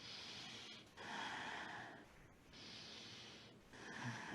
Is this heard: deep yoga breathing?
yes